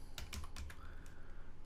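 Several quick keystrokes on a computer keyboard while web page code is being written, clustered near the start and then fading to quiet.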